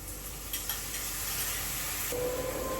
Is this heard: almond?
yes